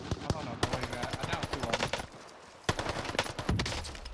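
Rapid bursts of automatic gunfire and scattered single shots from a Call of Duty: Warzone match on the Pacific Caldera map, fairly close and loud, mixed with game effects and a voice talking over the shooting.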